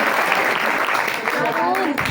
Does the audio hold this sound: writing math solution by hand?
no